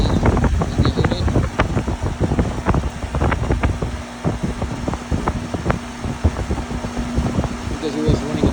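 An R-22 air conditioning unit runs at full speed with its indoor blower and outdoor unit going, a loud steady fan and wind-like roar broken by clicks and knocks, with a person talking over it.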